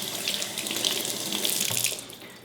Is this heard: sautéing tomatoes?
no